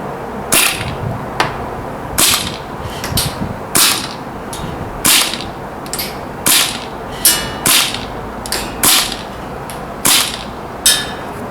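A PP-2000 gas blowback airsoft SMG firing BBs: sharp, loud individual cracks, some in quick doubles, spaced irregularly about once a second, close and clear with no talk.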